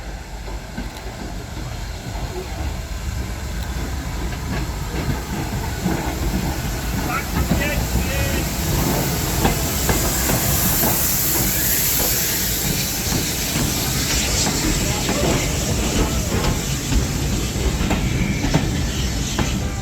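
A heritage train on the Severn Valley Railway rolls into a station platform with a continuous rumble, hissing air and rhythmic clatter of wheels, loud and close for the whole stretch, with faint voices under it.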